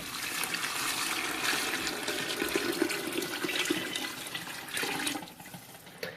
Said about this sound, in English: I'm going to put in the water now.